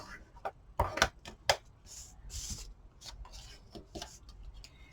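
Folded half-inch paper card pieces being burnished down by hand, with a few quick scraping rubs and soft taps close by, mostly quiet in between.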